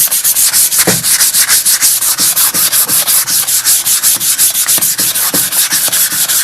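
A powdery coating is rubbed off a metal craft surface in quick, even back-and-forth strokes, a close, rhythmic scratchy rasp repeating steadily with no voices.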